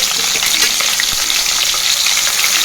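Mustard seeds, cumin, green chillies and chana dal frying in hot oil for pulihora, a loud steady crackling sizzle that fills the whole stretch with sharp pops scattered throughout.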